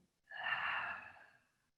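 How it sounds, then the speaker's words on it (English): A single soft, steady exhale out through the mouth, close and gentle, tapering off into quiet during a calm mindfulness breathing practice. "And exhale out the mouth"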